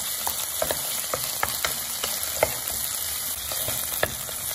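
Meatball mixture frying in a pan, a soft continuous sizzle with scattered light clicks and taps of a utensil, close up and without any talk.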